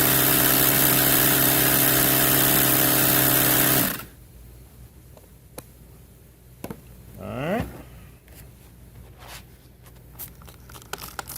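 Air hisses loudly and steadily from a compressor hose into a leaking tire for about four seconds, then cuts off, leaving quiet handling noises, clicks and a brief squeaky rubbery sound.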